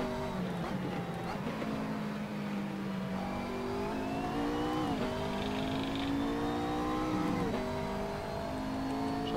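A McLaren race car engine in Assetto Corsa revs and shifts through a corner sequence, with rising pitch sweeps and gear changes heard fairly faintly.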